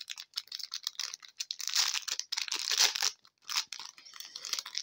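A hard plastic Shein package is opened close up with loud, uneven crinkling and crunching bursts, brief pauses between handling, and no talk.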